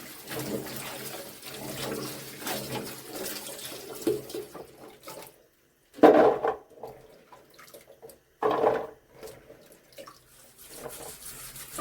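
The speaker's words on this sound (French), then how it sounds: "Regardez, on les rince 2 à 3 fois en changeant l'eau à chaque fois." Fava beans rinsed in water, with a fairly steady run of splashing and trickling liquid, a quiet gap, then two brief louder bursts of pouring or stirring water, no talking.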